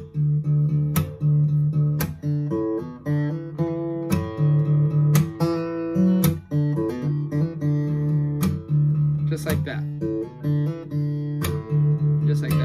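Guitar part from a song, a looping low riff with hammer-ons and ringing open strings, played close and steady with crisp pick attacks throughout, no voices.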